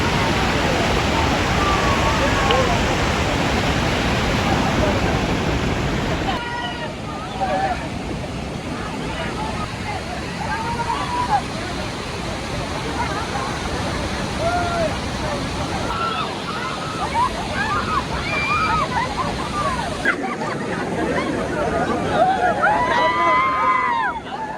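Waterfall at Viripara falls near Munnar, heard as a loud, steady roar of falling water that fills the whole scene, with people talking over it throughout.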